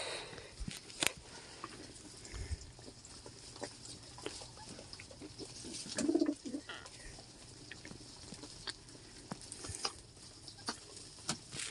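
Tumbler pigeons shuffling and cooing softly in a coop, with scattered wing flutters, scratches and light taps, all fairly faint and close.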